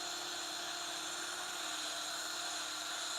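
A power sander works over the paint of a 1979 Camaro to strip off pinstripes, giving a steady, close, high-pitched whirring drone that holds unbroken throughout with no voices.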